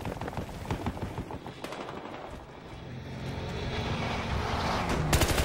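Gunfire crackles in the Battlefield Hardline video game, quick bursts of distant automatic shots over a low droning engine-like rumble, rising in intensity toward the end with sharp loud cracks.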